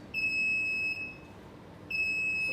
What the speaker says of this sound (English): click on this and the alarm is acknowledged